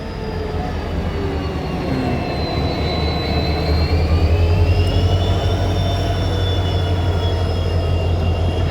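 An Indian railway locomotive, engine number 20001, rolls through Silchar station with a loud, continuous rumble and a high metallic whine from wheels and engine. The sound holds steady for several seconds with no talking.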